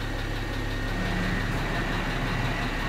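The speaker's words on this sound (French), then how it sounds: "là j'entends la pompe, elle fait un peu un drôle de bruit" Hydraulic suspension pump running on a Citroën C6 during a suspension bleed, a steady broadband mechanical hum and whir that holds at an even level for the whole stretch, close and continuous with no voices.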